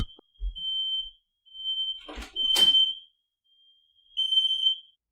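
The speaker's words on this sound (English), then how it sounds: "my fire alarm's going off" A house smoke alarm going off in loud, piercing, high-pitched beeps of about a second each, separated by brief pauses, close by, with a few thuds and rustles between them.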